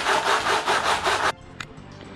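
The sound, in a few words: sanding to level surface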